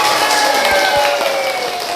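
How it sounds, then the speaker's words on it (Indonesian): Applause in a classroom during a teaching-practice lesson on office management, a brief steady patter of clapping from students lasting the whole moment at moderate loudness. "Tepuk tangan"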